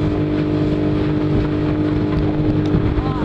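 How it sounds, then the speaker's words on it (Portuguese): A jet ski passes on the water near a motorboat, its engine a steady droning whine with harmonic tones over constant motor and water noise. "Olha o jet ski."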